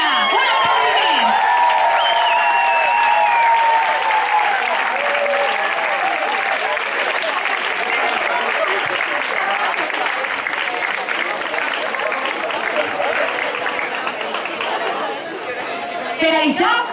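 A crowd applauds at a morning 9 October commemoration in Valencia, loud sustained clapping mixed with chatter and a few cheers and whoops, continuing for many seconds before thinning slightly near the end.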